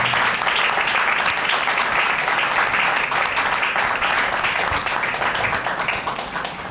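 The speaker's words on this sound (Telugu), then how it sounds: "గట్టిగా చప్పట్లు కొట్టి దేవుని మైపరచండి," Loud, sustained clapping from a church congregation during a fasting prayer service, a thick even roar of hands that tapers slightly near the end.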